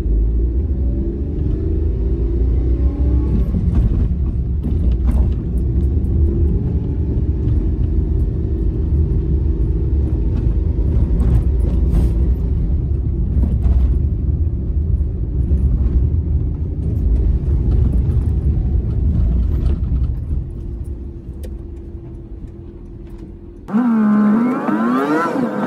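A Suzuki Alto Van HA23V with a manual gearbox drives at ordinary speed, its engine giving a loud, steady low rumble from inside the cabin, with shifting tones and a sudden change near the end.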